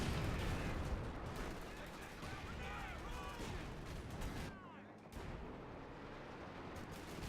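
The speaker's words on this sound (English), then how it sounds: "Another light artillery barrage." A light artillery barrage in a strategy video game, with rumbling blasts and crackling impacts in a dense, continuous wash that drops briefly around the middle before resuming, fairly distant and quiet overall.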